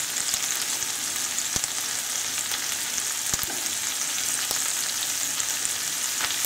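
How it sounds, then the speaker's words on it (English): Chopped onion fries in a hot pan on high heat, a dense, steady sizzle close by with a few sharp pops and faint spatula taps, no voices. "I've got 150 grams of chopped onion here. That goes in the pan."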